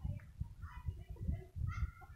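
Soft, low clucking from a native Bisaya chicken repeats in short bursts close by, with faint chirpy calls above it.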